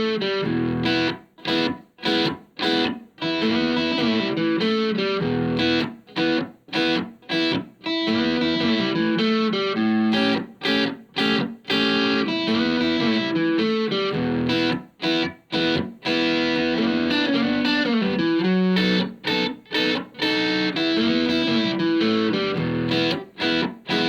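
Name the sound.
Texas blues groove on electric guitar, played slowly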